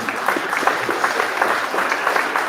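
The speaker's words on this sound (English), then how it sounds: "Can I give a round of applause?" Audience applause fills a community meeting hall, a steady crowd clapping that holds at an even level for a couple of seconds without voices.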